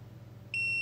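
A cheap, best-selling AliExpress multimeter in continuity mode gives one steady electronic beep that starts midway and holds to the end over a faint low hum.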